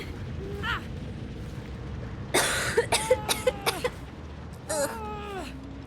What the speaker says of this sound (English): Coughing up a lung over here